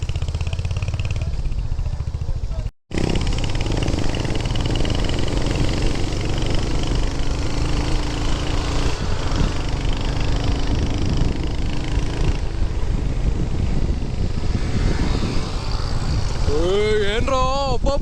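Motorcycle engines rumble along a road, a steady loud drone with clattering revs from bikes riding together, while people talk throughout.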